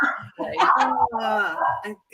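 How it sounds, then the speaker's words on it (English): Dogs bark and yip at a delivery arriving at a house, close and fairly loud in uneven bursts, with people talking at the same time. "the Amazon comes, the dogs bark"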